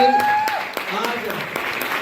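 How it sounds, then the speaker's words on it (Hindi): Hall audience claps for a speaker at a business presentation, a brisk burst of applause under a voice over a microphone, with sharp individual claps standing out near the mic. "जोरदार तालियां सर के साथ"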